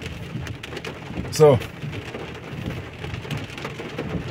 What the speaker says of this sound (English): and the rain is still falling same way.